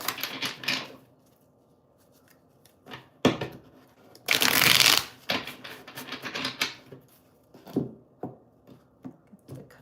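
Tarot cards are shuffled and cut during a live reading, giving crisp riffling bursts with a longer dense shuffle in the middle and scattered light taps between them, close and quiet otherwise.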